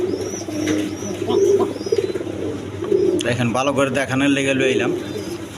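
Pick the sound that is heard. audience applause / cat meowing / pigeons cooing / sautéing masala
pigeons cooing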